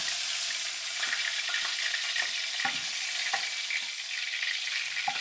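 Steak and potatoes stir-frying in a pan make a continuous bright sizzle, broken by irregular scraping and stirring clicks, close and clear with no voices.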